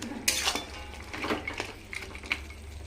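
Lentil dumplings dropped into a pan of half-cooked greens, then a lid set on top: a few soft clinks and metallic scrapes of utensil and cookware, close and fairly quiet.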